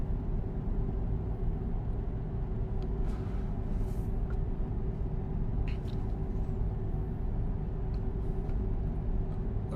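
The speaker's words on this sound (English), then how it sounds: "There are trucks around here that drive with straight pipes and it does sound like this." Scania truck with a straight-pipe exhaust in Euro Truck Simulator 2, a steady deep engine drone and rumble that holds evenly throughout, with faint higher clicks and ticks over the continuous roar.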